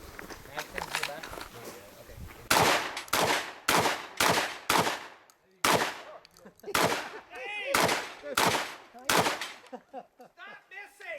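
Shotgun blasts at an action shooting side match, about ten loud sharp reports in quick uneven succession, some faint shots and clatter at the start, with people talking between the shots.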